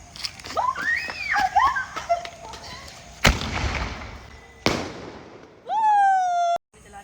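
Diwali firecrackers burst nearby in two loud sharp cracks, each trailing off in a noisy hiss, amid excited voices, squeals and whistling, followed by a steady rising whine.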